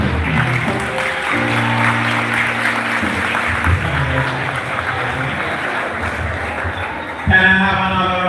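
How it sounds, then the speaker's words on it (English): An audience at a high school graduation ceremony gives the graduates sustained applause, a dense, even wash of clapping that lasts throughout. Background music and a voice sit underneath, and a louder swell comes near the end. "Can I have another round of applause for our graduates?"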